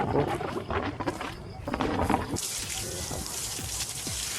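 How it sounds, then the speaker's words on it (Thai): Water gushes steadily from a pump run on a home-built 12-volt 35 Ah lithium iron phosphate battery, a continuous splashing flow, close and fairly loud, growing brighter partway through. "มาดูน้ำที่ได้กันเลยนะครับ เนี่ยรอดูน้ำที่ได้นะ"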